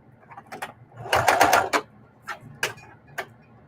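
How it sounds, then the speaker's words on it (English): Sewing machine running fast to stitch down a mitered quilt binding: a loud, steady burst of whirring stitching in the middle, with shorter starts and stops before and after. "Why am I sewing all fast, knowing that I'm doing a binding and not"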